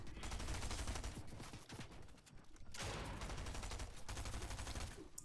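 Rapid gunfire bursts from a Fortnite match come in dense, overlapping volleys that keep up for several seconds. There is a short lull near the middle before the shooting picks up again, all heard faintly.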